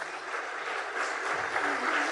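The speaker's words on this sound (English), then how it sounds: "Let's have a big round of applause." Audience applause at the opening session of a summit, a short, steady burst of many people clapping with a slight swell partway through, fairly distant and continuous.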